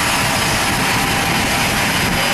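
A small aircraft powers up its engines at Aurora Municipal Airport, a steady loud broadband roar with a thin high whine, constant and close throughout.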